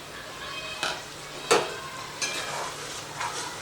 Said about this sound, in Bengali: এই টমেটো বাটাটা দিয়ে দিচ্ছি।